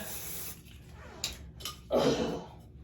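A few short hissing bursts of a spray bottle misting hair, close by, with light handling noises between them in a quiet room.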